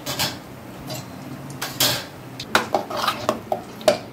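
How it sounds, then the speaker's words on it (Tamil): Boiled chickpea sundal mashed with a ladle at a roadside-style stall, a run of uneven metallic scrapes and knocks against a pot, with sharper clinks clustering toward the end, close and moderately loud with no talk. "நல்லா கரண்டி வச்சு இப்படி குத்திடுங்க"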